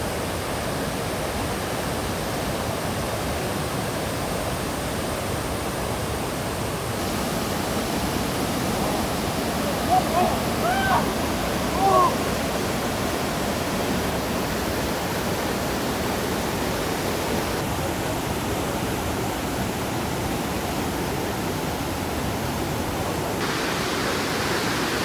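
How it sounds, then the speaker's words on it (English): Strong, fast creek water rushes after heavy rainfall in Australia, a dense, steady roar of turbulent flow heard close up and continuing without a break, with no speech. "The currents are so strong and unpredictable that they're saying do not swim here."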